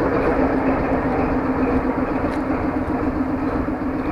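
Shunting diesel locomotive at a railway station, a steady loud engine rumble with a strong low hum that runs without a break.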